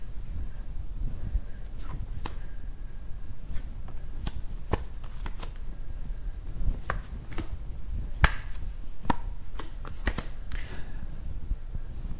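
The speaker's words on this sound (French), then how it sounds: "pendant que je me concentre et que je place les cartes" Playing cards shuffled and laid out one by one for a French-language card reading, giving sharp snaps and soft slaps at an irregular pace, close and clear against a quiet room.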